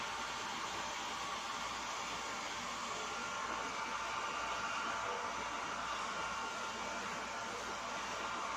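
Hair dryer blowing steadily close to a person's hair at home, a continuous loud whooshing hiss with no break and no talk.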